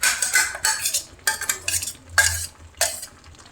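Mutton sukka with coconut powder being stirred in a pan: a spoon scrapes and clatters against the metal in repeated rhythmic strokes, close and clear, with a soft sizzle underneath and no voices.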